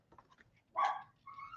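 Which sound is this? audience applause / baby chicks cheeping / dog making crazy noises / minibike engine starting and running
dog making crazy noises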